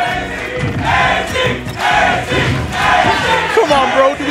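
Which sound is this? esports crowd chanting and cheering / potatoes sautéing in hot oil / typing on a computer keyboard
esports crowd chanting and cheering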